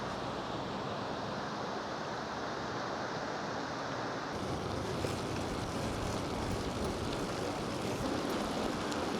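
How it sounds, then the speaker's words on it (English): Small waves wash in at a calm ocean beach in a continuous soft rush, with gusty wind buffeting the microphone throughout. "Nice calm day at the beach. Tiny little waves coming in."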